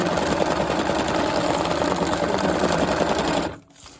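A sewing machine stitches steadily around fabric pebbles with a loud, close, rapid mechanical whir that runs continuously and then stops abruptly near the end.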